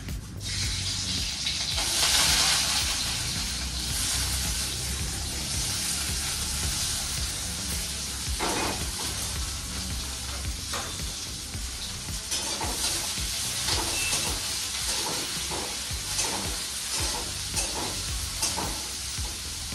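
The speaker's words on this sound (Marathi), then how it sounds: "तेल आपलं तापलेलं आहे. तर आता याच्यामध्ये मी हे कांदा वगैरे सगळं टाकते आहे" Chopped onions hit hot oil in a pan and fry with a loud, steady sizzle and hiss, broken by occasional stirring scrapes, close up and without voices throughout.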